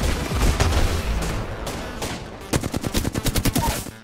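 Loud gunfire fills the Apex Legends match during an attempted trick shot. Dense shooting gives way to a rapid burst of evenly spaced automatic shots near the end.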